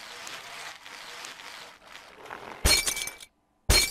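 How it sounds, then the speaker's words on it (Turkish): Glass breaking and shattering in the video game Happy Wheels: two sharp, loud crashes of splintering glass with tinkling shards, the second after a short silence, following quieter game noise. "Oğlum biraz cam kırıklarına maruz kalacaksın ama merak etme."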